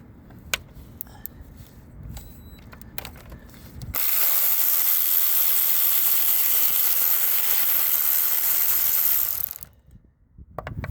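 Wrench ratcheting on a rear valve cover bolt of a Honda Accord: scattered close clicks and taps, then a loud, steady broad hiss for several seconds that drops away abruptly.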